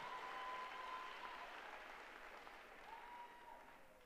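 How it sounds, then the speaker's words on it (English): Crowd applause for the vault champions at a collegiate women's gymnastics meet, a steady broad wash of clapping that fades slightly toward the end. "give a round of applause for your vault champions this afternoon"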